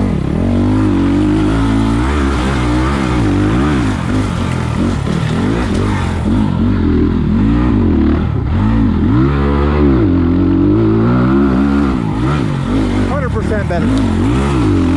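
A 2020 SSR Motorsports SR300 Chinese dirt bike fitted with a Lectron carburetor revs hard and constantly off-road, its engine note rising and falling close by, with voices talking over it.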